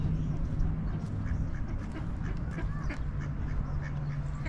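Wild geese call at a park pond in Tri-City Park, Placentia: repeated honking and quacking calls rise over a steady wash of outdoor background noise.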